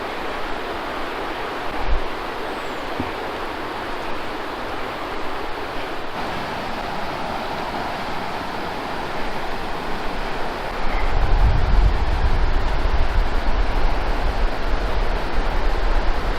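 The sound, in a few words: Umpqua River flowing water outdoors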